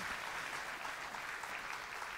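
Theatre audience applause at a cine-theatre evening event, a continuous even patter of many people clapping, moderately distant, without speech.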